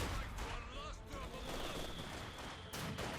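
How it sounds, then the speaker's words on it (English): Mortar fire from two mortars in Company of Heroes 2, with dense rumbling blasts and battle noise rolling on steadily, and a voice partly audible beneath the din. "Got a mortar fire again with 2 mortars."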